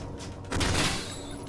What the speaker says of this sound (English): I gotta shoot like a moron.